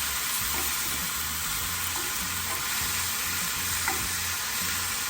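Bok choy noodles frying in a pan in an RV kitchen give off a steady, close sizzle that holds evenly throughout, with faint stirring scrapes now and then.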